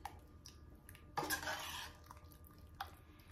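A spoon stirring chili with ketchup in a pot, quiet and close, with a short burst of scraping and thick mixing followed by a lone soft clink.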